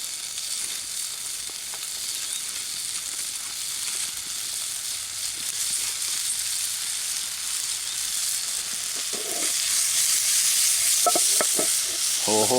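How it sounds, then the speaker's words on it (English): Food sizzles steadily in a pan at a campsite, a continuous hiss with scattered crackles that grows louder toward the end, with a few clinks near the close. "Oh, you hear that? Sizzle, sizzle, sizzle."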